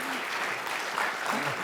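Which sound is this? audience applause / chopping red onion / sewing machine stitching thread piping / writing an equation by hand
audience applause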